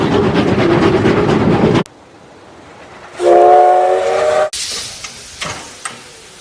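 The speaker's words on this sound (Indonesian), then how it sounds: "Beruntungnya datanglah sebuah kereta api yang melintas." A train passes in a survival film: loud rumbling rolling noise, then a brief lull before a strong horn or whistle blast sounds for about a second, followed by further clanking and track noise.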